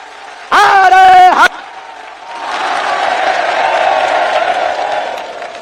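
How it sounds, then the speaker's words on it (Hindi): A large crowd at a Bageshwar Dham gathering applauds to welcome the Prime Minister, a loud amplified voice or horn-like tone ringing briefly first, then a broad wash of clapping and cheering swelling from a distance and holding steady. "जोरदार ताली बजा करके हम सब पूरा बागेश्वर परिवार स्वागत करें।"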